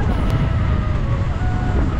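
Steady wind rushing past the microphone during a motorcycle ride in the hills of Ilam, Nepal, a dense low buffeting roar with constant engine-like rumble, close and continuous, with no voices.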